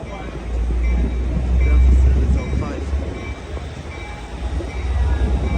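Amtrak California Capitol Corridor train 541 with locomotive 2007 rumbles past westbound, a loud, steady low roar of wheels and rail swelling near the middle and holding through the end, with voices talking underneath.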